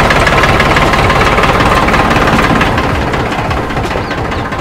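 A decorated tractor at a village wedding function runs close by, its engine idling loudly with a steady, knocking low rumble and vibration that eases slightly toward the end.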